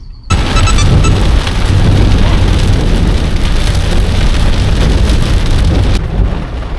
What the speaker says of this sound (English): Not so bad usually, but then the rain hit.